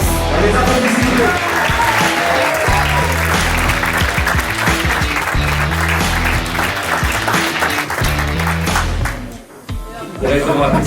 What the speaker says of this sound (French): Le finaliste, on les applaudit s'il vous plaît